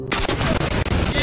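Rapid automatic gunfire from a weapon in the video game Destiny 2, a loud, dense burst of closely spaced shots lasting about a second.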